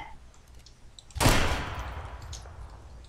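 A single sharp gunshot from an online shooter video game, with a burst followed by a fading rumbling tail over quiet background ambience.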